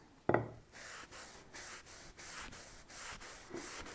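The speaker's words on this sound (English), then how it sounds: "what happens when you wipe these down, it's really something" Soft rhythmic rubbing strokes across a sanded wooden surface, an alcohol-soaked cloth swept back and forth repeatedly, close and quiet with no talking.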